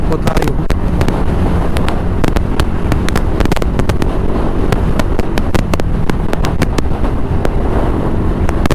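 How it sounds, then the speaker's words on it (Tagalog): Loud, constant wind buffeting the microphone outdoors at the CCLEX bridge in Cebu, a dense roar with rapid crackling gusts throughout and no break. "Grabe ang hangin."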